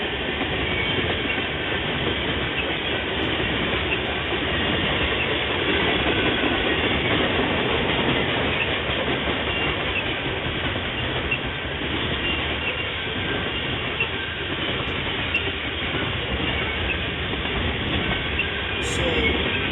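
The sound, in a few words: freight train with wood chip cars passing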